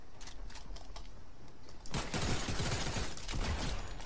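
Rapid bursts of Fortnite gunfire crackle in dense clusters, quieter at first and then louder and nearer, with sharp repeated shots over a continuous game soundscape.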